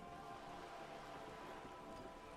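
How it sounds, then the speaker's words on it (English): Steady rain patters down onto wooden boards and the surrounding water in the video game Disco Elysium, a soft, even hiss throughout, with no voices. "All around you, rain keeps falling down. On the wooden boards she's standing on, and on the water around you."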